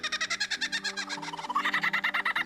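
A lyrebird gives rapid, repeated bird-like calls in quick pulses, shifting pitch midway into a brighter warbling series, mimicking several other birds.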